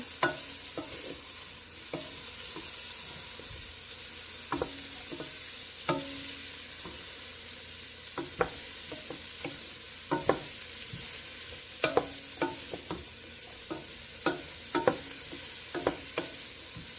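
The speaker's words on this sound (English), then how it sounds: "Just give it a nice big stir, get everything incorporated." Vegetable quinoa soup stirred in a pot, with a continuous sizzle or simmer underneath and sharp scraping clinks of a utensil against the pot at irregular intervals, close up, with no talk.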